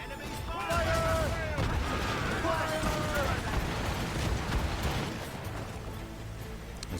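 Rapid bursts from a puckle gun trade with enemy cannon fire during a naval battle in Assassin's Creed Rogue, booming and continuous under a speaking voice.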